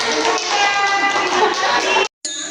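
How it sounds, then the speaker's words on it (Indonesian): A group of people clapping hands at a school session, loud and continuous with layered voices mixed in, cutting off abruptly near the end before a brief resumption. "Tepuk tangan"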